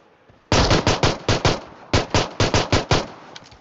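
Rapid automatic gunfire in the mobile battle royale game BGMI during a ranked match, loud close bursts of shots in two clusters separated by a short pause.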